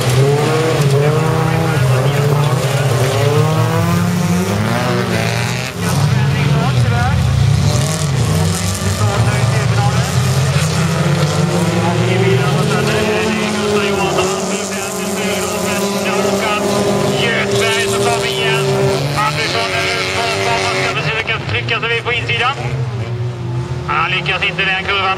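Folkrace cars, several of them rear-wheel drive, roar loudly through a corner on the Trollhättan track, with engines revving up and down and tires squealing while a commentator talks over them throughout.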